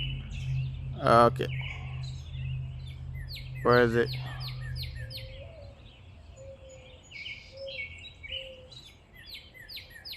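Birds chirp in a neighborhood in the morning, with short, high calls repeating across the scene at a moderate distance. Someone speaks briefly over them near the start.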